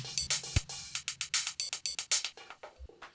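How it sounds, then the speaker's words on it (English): 1010Music Blackbox synth playing a rapid sequence of short, bright notes whose filter sweeps open and closed under an LFO, with a few low thuds mixed in, moderately loud and free of talking. "You can hear the frequency on the black box is changing because it's going off the LFO"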